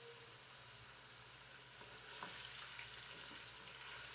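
Three small chopped onions frying in a cup of cooking oil over a medium flame, a quiet, steady sizzle with faint stirring scrapes.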